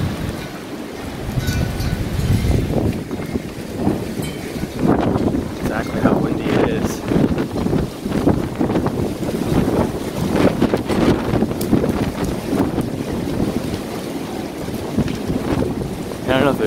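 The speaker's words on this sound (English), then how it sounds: "how windy it is." Strong gusting wind from a storm in Portland, Oregon roars and buffets the microphone in heavy bursts throughout, loud and close, with a voice faintly under it.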